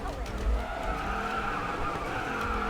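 Tires skid and screech under hard braking in the mobile racing game Racing Master, a sustained squeal over a steady engine drone that runs through the whole stretch at an even, loud level.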